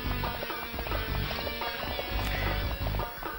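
Horse hooves clip-clop in a fast gallop in the Dynasty Warriors 3 video game, a busy, steady rhythm mixed with battle noise and a brief neigh.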